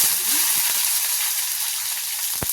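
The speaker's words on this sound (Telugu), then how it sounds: "ఒక 1/2 స్పూన్ జీలకర్ర ఫ్రై అవనిద్దాం." Cumin seeds and onions frying in hot oil give a steady, close sizzle for a couple of seconds, with a few soft clicks and one sharp tap of a utensil near the end; no voices.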